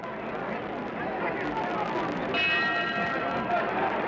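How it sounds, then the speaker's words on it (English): A boxing ring bell clangs to end a round in the 1967 Muhammad Ali versus Ernie Terrell heavyweight fight, ringing out over a steady, loud arena crowd roar. "That's the bell for round 4."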